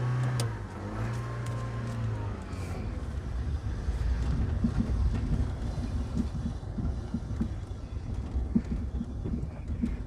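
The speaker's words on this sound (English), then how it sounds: "Got to give this car plenty of revs now, don't want it stalling on me again." A Citroen Saxo VTR engine revving and idling, a low steady engine rumble heard from close by with no talk over it.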